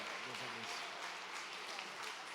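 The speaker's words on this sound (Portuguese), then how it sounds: "Aplauda ao Senhor, igreja." Church congregation at a family service clapping together, a dense steady patter of many hands at moderate distance, with a voice speaking briefly over the start.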